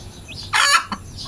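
A hen or rooster in a nest area lets out a short loud squawking cluck, close by, followed by a brief softer note and quiet background.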